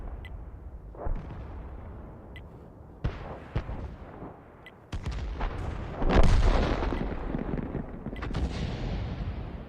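Artillery fire in the World of Tanks video game, a few distant booming shots with sharp cracks spread over several seconds, followed by a louder, closer blast and rumbling aftermath, no speech heard.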